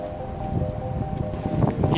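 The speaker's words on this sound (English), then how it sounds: "It is windy." Wind blows steadily through a snowy forest park, with a low rumbling gust and faint rustling, and no voices.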